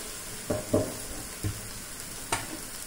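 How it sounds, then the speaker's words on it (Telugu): Ridge gourd pieces dropped into hot oil, a faint steady sizzle broken by a few soft thuds and clicks as the pieces land and are moved; no talk. "ఇట్లా బీరకాయ ముక్కలు వేసేసుకోండి"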